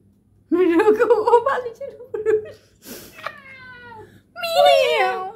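A voice imitates a cat's meow indoors, close up: several drawn-out, wavering mews separated by pauses, with a short chuckle in between.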